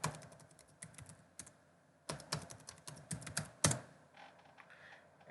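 Typing a password on a computer keyboard: irregular clusters of close, crisp key clicks with short pauses, in a quiet room without speech.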